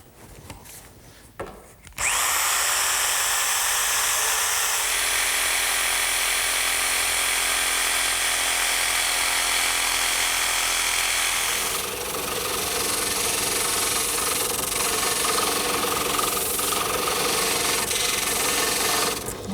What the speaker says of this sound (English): then I'll cut it out using my handheld jigsaw